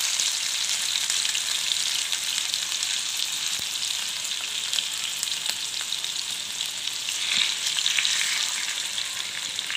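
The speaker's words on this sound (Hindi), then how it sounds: "इस चिकन को है फ्राई करना" Chicken pieces for Kashmiri chicken masala fry in a pan with a loud, continuous sizzling hiss, and a few faint clicks and stirs come through the crackle.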